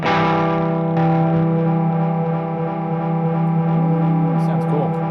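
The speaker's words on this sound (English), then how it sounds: "If you hold one of the buttons, it creates a freeze." A sustained, droning wash of guitar tone held by a Red Panda Context pedal's freeze mode hangs steadily, layered harmonics smeared together with a faint shimmering swirl near the end.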